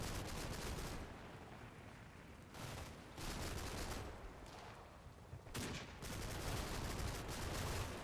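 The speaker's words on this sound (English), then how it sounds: "I've been hearing that machine gun fire" Machine gun fire in the video game Combat Mission: Battle for Normandy, repeated bursts of rapid gunfire in dense clusters separated by short pauses, sustained and fairly loud across the whole stretch.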